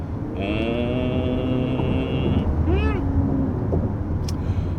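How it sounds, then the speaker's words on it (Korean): Cabin sound of a Lexus LM 500h hybrid minivan accelerating under heavy throttle: a steady low road and drivetrain rumble with faint rising whine tones, heard from inside. "실제로 가속 페달을 한 30만 밟아볼게요. 쭉 밟으면"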